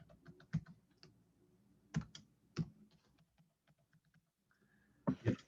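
Keys clack on a computer keyboard in short, irregular bursts of close taps separated by pauses, ending in a louder flurry of strokes; no voices.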